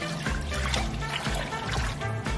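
Water poured into a pot of salted beef tallow during rendering, a steady trickling pour running continuously and close throughout.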